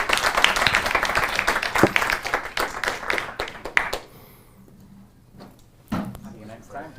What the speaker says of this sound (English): all that remains is one final round of applause to both our presenters for a fascinating conversation